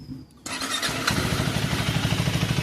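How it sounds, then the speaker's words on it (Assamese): A KTM Adventure 390 motorcycle fires up after a short quiet moment, then settles into a loud, close, evenly pulsing exhaust idle. "এক্সজষ্ট নোটটো শুনাই দিওঁ আপোনালোকক এবাৰ।"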